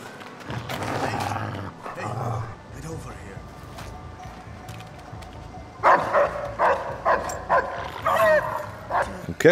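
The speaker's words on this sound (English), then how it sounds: "dogs are indeed back, and they can be pretty tough to deal with" Guard dogs in the Splinter Cell Blacklist video game bark and yip in short repeated bursts, growing louder and more insistent toward the end, with someone talking over parts of it.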